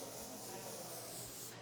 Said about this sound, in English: So I'm spraying it down the cuticle.